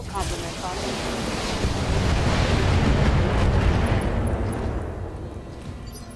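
Mech weapons firing a full volley in the Battletech video game: a long, roaring blast of rumbling explosions that swells to a peak and slowly fades away, loud and unbroken.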